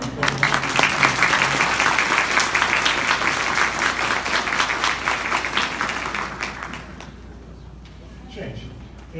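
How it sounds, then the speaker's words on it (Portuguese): An audience claps loudly and densely at a comic-book pre-sale launch event, a sustained burst that gradually thins out and fades, followed by a brief voice. "Então eu peço uma salva de palmas para todo mundo."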